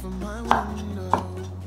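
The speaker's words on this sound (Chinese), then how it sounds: "把番茄切片" A knife slicing a tomato on a cutting board, two separate sharp taps about half a second apart, close and clear over a low steady background hum, with no talking.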